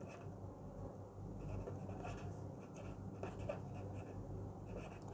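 A pen writes steadily on paper while a graph is drawn during an economics lecture, giving a faint, continuous scratching and rubbing sound with no talking.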